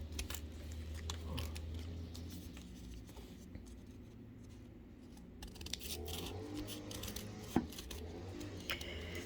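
Scissors snip through paper rose petals, quiet close cuts and rustling paper arriving in irregular bursts with small clicks, over a faint low room hum.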